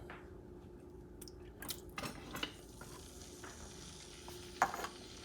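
Sofrito sizzling in oil in a pot for pink beans, a soft, faint crackle with occasional spoon scrapes and stirring knocks, including one sharper clink near the end.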